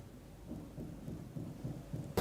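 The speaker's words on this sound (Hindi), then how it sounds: "यहाँ पर हल्की बारिश से मौसम सुहावना हो गया है।" Steady rain with low rumbling thunder falls in Charkhi Dadri, the rolling rumble continuous throughout and a sharp loud burst right at the end, with no voices.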